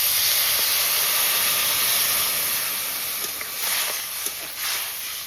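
Tamarind sour liquid is poured onto fried crab in a hot pan and sizzles with a loud, steady hiss that eases slightly toward the end.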